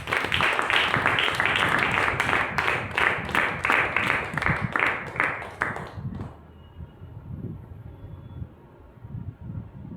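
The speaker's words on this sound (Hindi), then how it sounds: "आप ताली दे सकते हैं।" A church congregation at a baptism service claps together in a loud, even rhythm for about six seconds, then stops, leaving a quiet, softly murmuring room.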